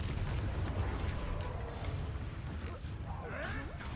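Spell blasts in Hogwarts Legacy, Bombarda explosions, heard as a dense, continuous booming roar with rumbling low end and crackling debris, loud and unbroken across the moment.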